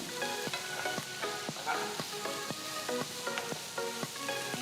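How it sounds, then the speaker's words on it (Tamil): Steady sizzling of large chopped onions sautéing in a pan for a chutney, with periodic clicks and scrapes of stirring, close and continuous. "நல்ல பெரிய வெங்காயத்தை நறுக்கி சேர்த்துக்கலாம் வெங்காயம் ரெண்டு மூணு நிமிஷம் வதங்கட்டும்"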